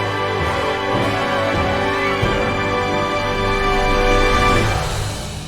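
A full orchestra holding a loud, dense final chord with rapid runs and woodwinds woven through it, sustained for several seconds before it begins to fade.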